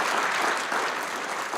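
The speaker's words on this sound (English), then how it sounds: "round of applause." An audience at a public lecture on the history of elk in Yakima County breaks into steady, dense applause, many hands clapping together at an even level throughout.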